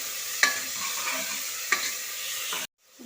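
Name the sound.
tomatoes and onions frying and stirred in pan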